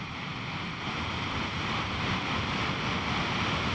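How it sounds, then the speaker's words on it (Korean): Water thunders down a waterfall inside a cave near Bern, Switzerland, a falling torrent said to sound like drumming; a steady, dense, loud roar fills the whole stretch with no voices. "폭포 물소리가 마치 드럼을 치는 듯한 소리를 내 드럼 폭포라고도 한다"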